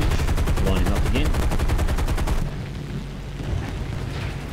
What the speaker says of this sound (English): I am not particularly good with 50 caliber machine guns at the moment